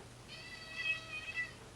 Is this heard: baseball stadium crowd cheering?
no